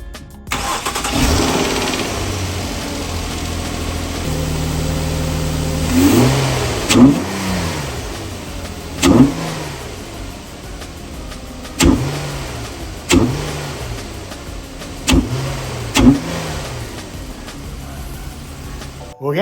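A 2009-2014 Nissan Maxima fitted with a K&N cold air intake starts and idles, then is revved in a string of short throttle blips that rise and fall, loud and close.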